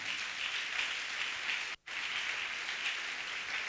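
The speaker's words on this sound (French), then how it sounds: "Nous acclamons très fort au nom de Jésus" A church congregation applauds loudly in a dense, steady wash of clapping that breaks off for a moment near the middle and then resumes just as strongly.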